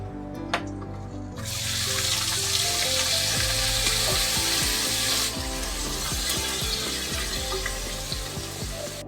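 Onion frying in a pan for egg rice: a loud, steady sizzle bursts in after a quiet opening and holds throughout, with scattered stirring knocks and scrapes underneath.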